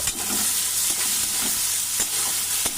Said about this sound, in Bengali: খুব ভালোভাবে পেঁয়াজ আর কাঁচা লঙ্কাটাকে আমি ভেজে নিচ্ছি